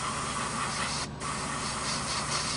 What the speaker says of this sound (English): You come in here with your color, and then airbrush this